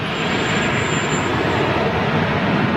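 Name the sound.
United airliner jet departing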